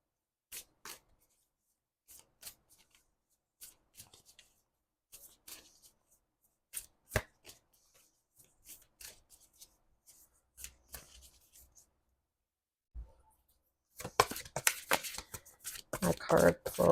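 Moonology oracle cards are handled in short, separate bursts of snapping and riffling, with quiet pauses between them, followed by a louder and denser run of shuffling at the end.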